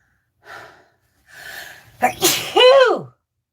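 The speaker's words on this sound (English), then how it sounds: "I'm about to sneeze" Two sharp inhaling gasps build up, then one loud sneeze bursts out close by, followed by a brief vocal trail-off.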